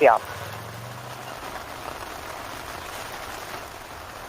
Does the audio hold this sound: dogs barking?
no